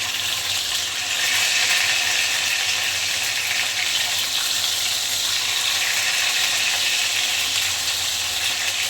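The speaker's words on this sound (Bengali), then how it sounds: "এবার আমরা আরেকটা দিকে লাল লাল করে ভেজে নেব।" Pieces of katla fish frying in a pan, a steady, dense sizzle of hot oil running evenly throughout with no voices.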